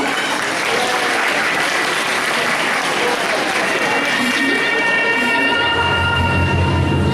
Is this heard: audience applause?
yes